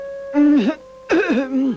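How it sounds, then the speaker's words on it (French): Two dry, hoarse coughs in quick succession, close and loud, each a rough, throaty burst with a short pause between them. "Soudain, on entendit éclater une toux sèche et rauque."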